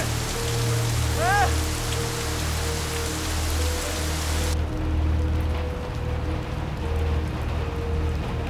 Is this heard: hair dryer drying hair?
no